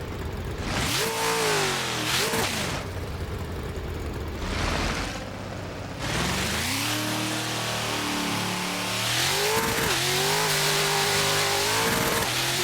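Ford Mustang engine in the Assetto Corsa driving game, revving loudly and repeatedly through rising and falling pitch sweeps with gear changes, steady and close throughout the clip with no talking.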